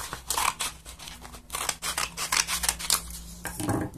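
Scissors snipping black A4 paper, a quick series of close, crisp cuts in irregular rhythm over about four seconds, with no voice.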